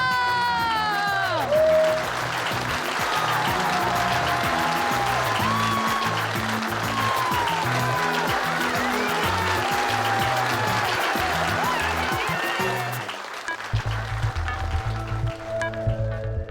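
Audience at a TV show prize ceremony claps throughout, a dense sustained round of applause with whistling tones over it, fading toward the end.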